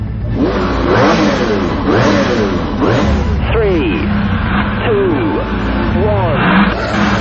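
A Bugatti Veyron and a McLaren F1 launch in a drag race, engines revving hard with rising and falling pitch sweeps that repeat through the run, loud and close, with voices talking over the roar.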